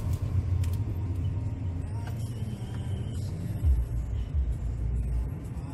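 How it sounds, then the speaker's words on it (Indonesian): Saturday traffic jam on the road home from a high school friend's wedding party, a steady low rumble of idling cars and engines throughout, close and continuous with no clear talk. "karena hari Sabtu di mana-mana macet."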